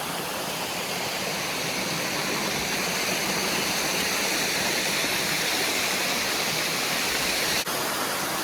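A waterfall spilling from a rock wall beside old mill ruins, a steady close roaring rush of water that fills the whole stretch without a break.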